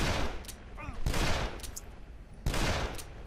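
Gunfire in the zombie video game Dead Island, with three loud broadband bursts about a second apart over a constant low game rumble, and brief voice-like sounds between them.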